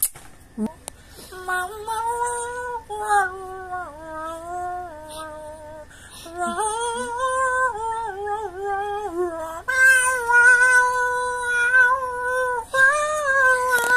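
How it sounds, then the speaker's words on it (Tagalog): A cat yowls loudly in a long series of drawn-out, wavering cries close by, with short pauses between calls, in a home setting. "Bumibirit na yung pusa dito, wala pa rin."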